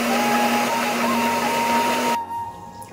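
An electric mixer grinder blends mango with water in its jar, giving a loud, steady whirring roar that cuts off abruptly after about two seconds, leaving a faint hum.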